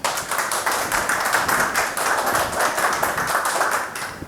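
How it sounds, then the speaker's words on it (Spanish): Applause from an audience at a talk on Peruvian cinema, brisk and fairly loud clapping from a modest crowd, continuous with no speech. "Lo recibimos con fuertes aplausos"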